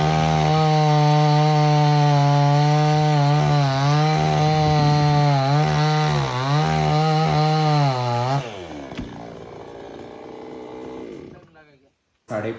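A chainsaw cuts through a tree trunk, its loud, steady engine drone wavering in pitch as the chain bites for about eight seconds, then dropping to a lower idle before cutting out.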